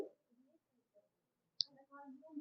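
A single sharp computer mouse click lands about midway through, standing out briefly above quiet room noise and murmured talk.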